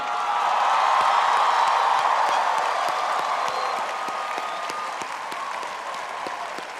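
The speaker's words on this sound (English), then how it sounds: "let's all cheer now" A large commencement audience cheers and applauds at length, dense crowd clapping with scattered whoops filling the hall, loud and sustained before gradually thinning toward the end.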